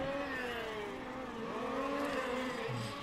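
Race cars lap a circuit at the Race Car Series Rucphen 2025 finals, a continuous engine drone with shifting, sweeping pitch from several cars, steady and moderately loud throughout.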